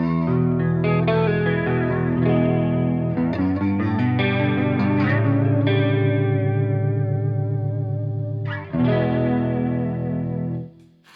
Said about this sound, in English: so then we're focusing on the more subtle flanger,